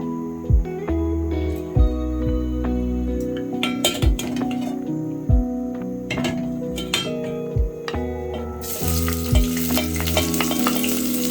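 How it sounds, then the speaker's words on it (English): Chopped onions sizzle and fry steadily in hot cooking oil in a pan for a potato and pea stew, close and continuous, with periodic low thumps and clinks of stirring and background music. "once my cooking oil is hot enough, I'll go in with my onions, and I'm going to saute this for about a minute"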